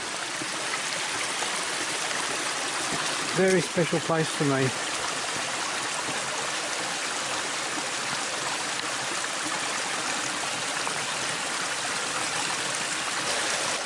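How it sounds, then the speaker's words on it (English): A creek, Boarding House Creek, flows steadily with a constant rushing, trickling wash, and a brief spoken remark rises over the water early on. "here we are at Boarding House Creek"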